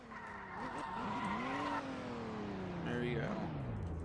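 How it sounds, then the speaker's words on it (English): A civilian car in the Roblox game Emergency Response Liberty County accelerates along a road during a speed test, engine revving upward through gear changes with brief tire squeal, while someone talks. "just a quick speed test. We'll do this for every car to go up and down this road."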